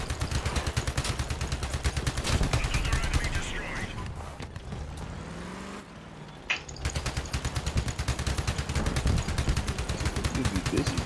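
Guns firing on a tracked vehicle in a vehicle-building game: rapid, loud automatic bursts in long rattling runs, briefly pausing midway before resuming, with a voice talking over the gunfire.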